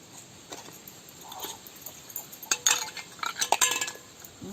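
Utensils scrubbed by hand with coconut fibre in a home kitchen, giving scattered scraping rustles and light metallic clinks of dishes that grow busier toward the end, fairly close with no talk.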